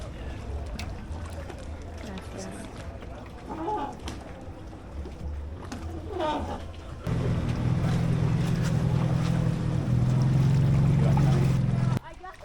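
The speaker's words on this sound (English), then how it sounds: "We're just going to take the boat across the lake to the other side" A boat engine drones steadily, stepping up to a louder, heavier hum partway through and then cutting off near the end, with wind and water noise throughout.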